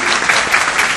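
Loud, dense audience clapping at a conference talk, close and continuous with no voices over it.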